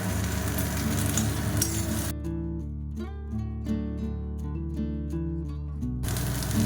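Green peas and vegetables sizzle in a pan, the frying heard clearly at the start and again at the very end, with music taking over in the middle.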